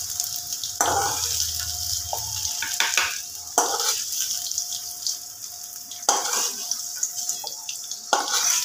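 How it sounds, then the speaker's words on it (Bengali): Potatoes fry in hot oil while mutton keema curry is being made, giving a steady close sizzle with occasional stirring clatters and scrapes. "খুব ভালোভাবে আলুগুলোকে লাল করে ভেজে নেব।"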